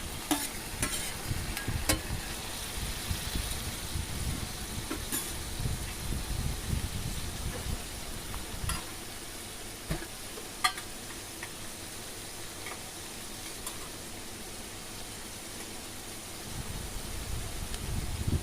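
Chicken pieces frying in a pan for a chicken curry, a steady sizzle with repeated scraping stir strokes and a few sharp ticks, fairly close and without any voices.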